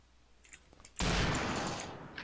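Gunfire in the video game Combat Arms Reloaded: after a quiet start, a sudden loud burst of shots erupts about a second in and trails off over the next second.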